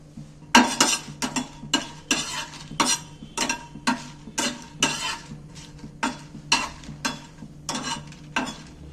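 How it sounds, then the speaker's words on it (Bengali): Dry red chillies are dry-roasted in a pan on a gas stove, with a utensil stirring and scraping in a steady rhythm of about a dozen close, crisp strokes. "এইবার আমি শুকনো লঙ্কাগুলো ওই প্যানের মধ্যে নেড়ে চেড়ে ভেজে নেব"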